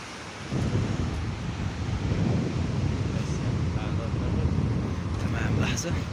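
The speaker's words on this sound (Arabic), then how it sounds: "البحر ده طبعا من منطقة الريسة، ده بحر الابيض المتوسط" Mediterranean sea waves rolling onto the shore at Al-Rissa beach in Arish, North Sinai, heard as a steady, fairly loud broadband wash mixed with strong wind buffeting the microphone throughout.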